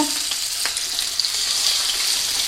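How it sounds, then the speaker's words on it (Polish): Steady, close hiss and crackle of cod frying in hot oil, with a few sharper pops breaking through the sizzle. "Olej już mamy rozgrzany, wkładamy naszą rybkę."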